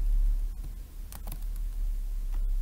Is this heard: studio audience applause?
no